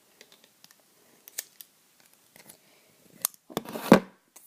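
Scissors snipping an elastic band on plastic toy packaging, a few sparse small clicks and snips, then a louder cluster of sharp cuts and crinkling near the end, close up and without talk.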